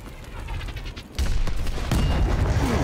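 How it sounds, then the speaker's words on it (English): Explosions and gunfire in Call of Duty Advanced Warfare: a burst of rapid shots followed by heavy booming blasts that thicken into a continuous loud crackling roar. "Pressure explosions!"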